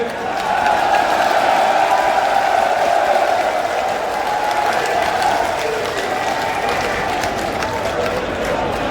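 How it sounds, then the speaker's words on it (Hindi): A large crowd at a political rally in Gangoh applauds as Yogi Adityanath is welcomed, sustained loud clapping mixed with cheering and crowd noise that continues evenly for the whole stretch. "योगी आदित्यनाथ जी का एक बार हम सभी खड़े होकर तालियां बजाकर स्वागत करेंगे।"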